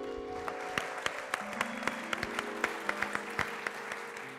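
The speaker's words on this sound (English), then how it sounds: "Please, big round of applause for them." A theater audience applauds a performing cast, a steady patter of many hands clapping at moderate distance, with sharper individual claps standing out and no voices on top.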